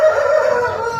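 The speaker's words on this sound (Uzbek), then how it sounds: "Mana xo'roz." A shamo fighting rooster of the Andijon or Japanese breed crows once, a loud, close, drawn-out call that holds steady before tapering off, with no talk over it.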